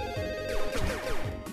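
A telephone rings in the VR game Pixel Ripped 1995, a fast warbling electronic bell trilling in quick repeated bursts, clear and close with no talk over it.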